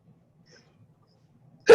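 A single abrupt sneeze bursts out loud and close at the very end, after near silence with only faint low background murmur.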